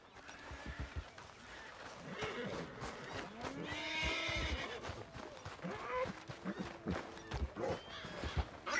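A horse whinnies repeatedly in the video game Red Dead Redemption 2, loud, drawn-out neighs mixed with hoof clip-clops and snorts, rising and falling over several seconds.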